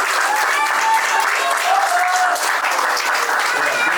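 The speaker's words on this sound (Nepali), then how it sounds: "ल अब भाइले लगाऊँ, हामी ताली बजाउँ।" Engagement-ceremony guests applaud in a continuous, fairly loud wash of hand clapping from a close crowd, lasting the whole stretch.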